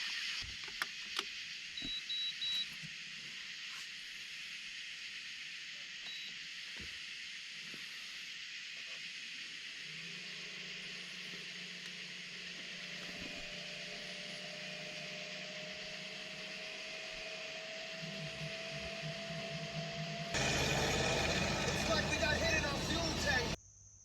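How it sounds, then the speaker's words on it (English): An air conditioner runs at a tent during a winter camping trip in the Ozarks, giving a steady, even hiss throughout that swells noticeably louder and brighter near the end. "So I'm gonna go turn the air conditioner on and get it started."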